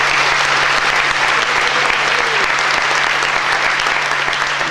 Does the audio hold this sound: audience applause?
yes